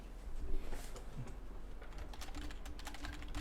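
Close, quiet clicking of fingers typing on a computer keyboard, an irregular run of soft keystrokes that grows busier toward the end, with no voices.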